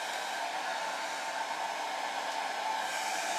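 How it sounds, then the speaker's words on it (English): A hair dryer runs from a portable power station, a steady, even whooshing hum of fan and airflow held at constant loudness with no talking. "So I'm going to turn the hairdryer on,"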